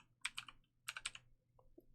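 Keyboard typing in the type field of a web database tool: two quick clusters of close, crisp keystrokes, then a couple of softer clicks, in a quiet room.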